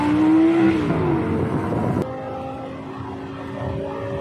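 Lamborghini Gallardo and Ford Mustang supercars racing in a speed battle, with a loud close engine roar and a rising whine that cuts off abruptly, leaving a steadier, quieter engine drone.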